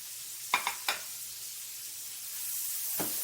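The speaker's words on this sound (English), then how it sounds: "All we're doing is just lightly sauteing the peppers, getting them a little soft." Peppers lightly sauté in a pan, giving a soft steady sizzle with a few sharp scraping stir strokes early on and another stir near the end.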